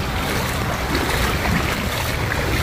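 Floodwater rushes through a residential street turned into a stream, knee-deep, a steady broadband roar and churn of moving water that stays constant and close throughout.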